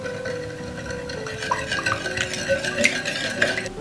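Sugar, yeast and egg are stirred together in a bowl, producing close, rhythmic scraping and clinking of a utensil against the bowl, growing busier toward the end.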